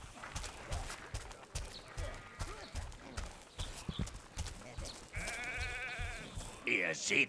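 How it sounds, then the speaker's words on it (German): Sheep bleat in a camp in the Overlord Raising Hell video game, with a sustained wavering bleat rising clearly near the end over game music, rhythmic hoof-like clopping and voiced dialogue. "Oh, komm zu mir, kleine Schäfchen."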